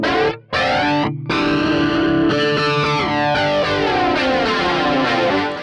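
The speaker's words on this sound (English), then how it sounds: "I actually kind of like the sound of that flanger" A distorted electric guitar is played through the flanger effect of a modelling unit, sustained chords sweeping with a whooshing, jet-like comb sweep after a couple of short stops, loud and with no talking.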